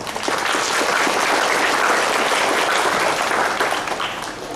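A large audience applauds in a dense, sustained wash of clapping that holds loud and steady throughout, then tapers slightly at the end.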